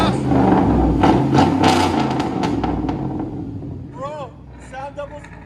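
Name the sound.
2006 Chevy Tahoe 5.3L V8 revving with straight-pipe dual exhaust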